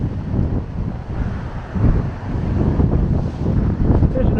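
Gusty wind buffets the microphone in loud, low rumbling bursts that rise and fall, with faint city street background underneath on a chilly day in Toronto.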